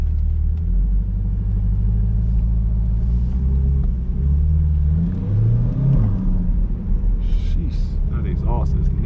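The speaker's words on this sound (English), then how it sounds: "That exhaust is nasty." A 2021 Chevy Corvette C8 Stingray engine rumbles deeply and revs up, the exhaust growling under continuous noise, with faint speech in the background.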